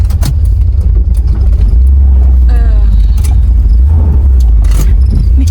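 Old 1963 Chrysler Newport V8 idling roughly on stale gas, a loud, steady low rumble close up, with brief people talking over it.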